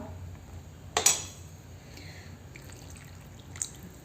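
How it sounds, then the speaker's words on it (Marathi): Water splashes briefly into a pot of dried chickpea-leaf vegetable cooking with jujube berries: one short, close pour, then faint drips against quiet kitchen background. "मला अजून पाणी घालावं लागेल कारण ती घट्टी होईल"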